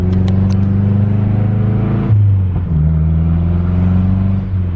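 A Mazdaspeed 6 car drives with a steady, close engine drone that drops briefly as it shifts, then settles into a smooth continuous hum.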